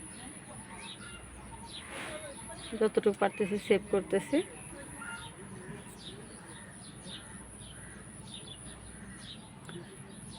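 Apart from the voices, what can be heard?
pigeons cooing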